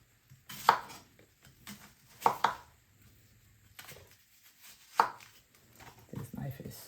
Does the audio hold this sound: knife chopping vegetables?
yes